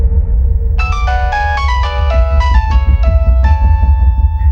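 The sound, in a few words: mobile phone ringing repeatedly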